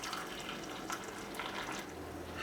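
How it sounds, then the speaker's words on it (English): Boiling water from a kettle pours into cups in a steady, quiet, close stream, a continuous liquid trickle and splash with no talking over it. "we're going to fill each of these cups 3/4 of the way up with some boiling water"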